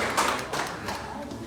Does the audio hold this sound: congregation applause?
yes